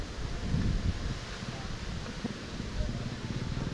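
Steady wind rumbles and blusters against the microphone at a campsite resort in Tanay, Rizal, a constant low roar with a voice speaking over it.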